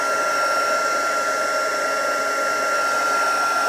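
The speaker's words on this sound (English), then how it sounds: "That proves just how hot your embossing tool gets." A handheld embossing heat tool blows hot air in a continuous loud whirring drone with a steady high whine, nearby and unchanging throughout.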